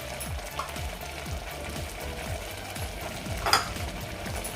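A spoon stirs spices into daliya lapshi porridge in a pot on the stove, a faint rhythmic scraping about twice a second over a soft bubbling background, with one brief clatter.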